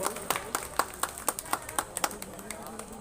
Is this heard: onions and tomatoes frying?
no